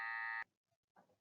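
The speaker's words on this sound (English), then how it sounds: "That was the fire alarm." A building fire alarm blares loudly at close range as a harsh, steady electronic buzz that cuts off abruptly, followed by a faint tap and a brief murmur of sound.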